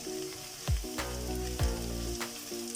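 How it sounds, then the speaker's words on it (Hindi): Onions frying and sizzling in a pan for chicken chana curry, a steady close crackle with a few stirring knocks and scrapes. "इसको फ्राई करते हैं, थोड़ा ब्राउन होने देते हैं"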